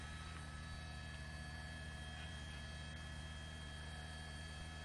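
Helicopter hovering over a school shooting scene in Santa Clarita, California, a steady faint rotor drone with continuous hum and no talking.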